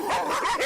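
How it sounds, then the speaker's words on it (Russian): Stray dogs yip and bark in short, whining bursts, close and fairly loud, with a high rising and falling tone and no voices over them. "стаи диких псов держат в страхе города и села"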